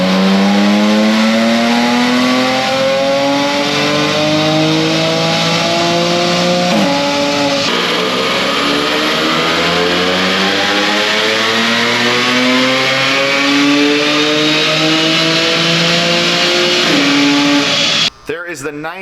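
Audi B8 S4 engine on a dyno running 93 octane, loud and close, climbing steadily through the revs in long sustained pulls with a brief shift-like dip, then cutting off abruptly near the end.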